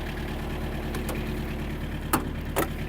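A Mitsubishi MT-265 mini tractor's engine idles while warming up, a steady, rhythmic low chugging with a couple of brief ticks or knocks over it.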